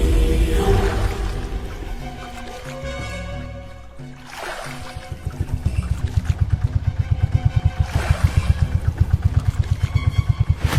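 A cartoon boat's engine as the boat turns around in the Sundarbans, a quiet stretch and swishing sweeps giving way to a loud, fast, regular putter that builds and carries on to the end.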